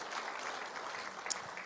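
Quiet applause from a lecture audience at a Mainbiz CEO breakfast talk on the 2024 economic outlook. Even, distant clapping fills the short stretch, with one sharp brighter click near the end.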